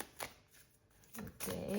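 Oracle cards shuffled during a card reading, a short soft riffle near the start, a quiet pause, then a louder, denser burst of flicking and sliding cards toward the end.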